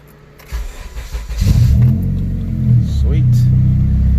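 A tuned car engine cranks and catches, then settles into a loud, close, steady idle with a brief rev near the end.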